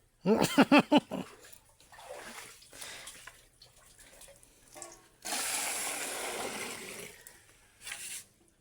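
Household water containers, used for cooking rice, bathing and washing, fill from a tap with a steady rushing hiss that swells loud partway through, after a brief voice-like sound at the start and quieter stretches.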